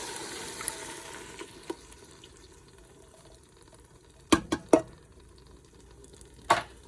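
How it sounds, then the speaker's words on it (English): A spoon stirs coconut milk curry, with chili flakes, turmeric and paprika, in a Ninja Foodi pot: soft liquid swishing followed by a few sharp knocks and scrapes against the pot, close and without talk. "And give that a stir."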